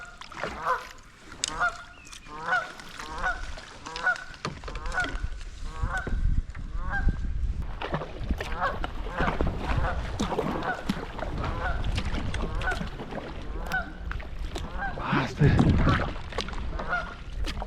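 A wounded wild goose struck by an arrow honks repeatedly in a rhythmic series of calls, fairly near, while water splashes and low movement noises rumble underneath in the New Zealand bush.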